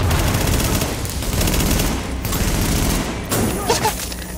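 Sustained automatic gunfire in the shooter game The Division, set in Manhattan, rattles in a dense, continuous volley with heavy low thuds, dips briefly, then erupts again with sharp bursts near the end.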